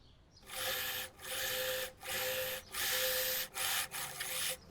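Sewing machine stitching the back pieces of a spaghetti-strap summer dress together, close and loud, running in several steady whirring bursts separated by brief pauses, no talking.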